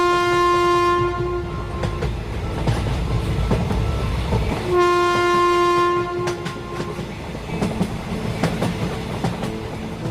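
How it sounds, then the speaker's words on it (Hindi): A cartoon train pulls away, its horn sounding in two long blasts over rumbling wheels and clickety-clack that continue steadily and close by. "तभी ये ट्रेन शुरू हो जाती है"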